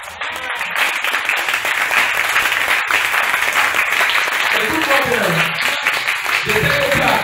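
A church congregation at a Tuesday service applauding and cheering: dense, loud clapping that swells after a brief opening and carries on steadily, with voices calling out and a speaker talking over it.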